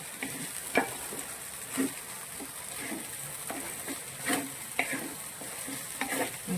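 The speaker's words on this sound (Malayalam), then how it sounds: "നന്നായിട്ട് നമ്മൾ ഇളക്കി കൊടുത്തുകൊണ്ട് ഇതൊന്ന് ഫ്രൈ ആവണം. ഈ റൈസ് ഒന്ന് ജസ്റ്റ് ഒന്ന് ഫ്രൈ ആവണം." Prawn fried rice sizzles steadily in a pan while a spatula stirs it, giving repeated scraping strokes about once a second over the constant frying hiss. The sound is close and has no voices.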